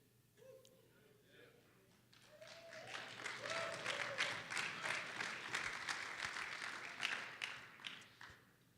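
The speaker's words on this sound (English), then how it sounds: "We were clapping for you, Dave." An audience claps at a service and sales business event, faint and somewhat distant. Scattered sounds and low voices come first, then dense applause builds after a couple of seconds and carries on to the end.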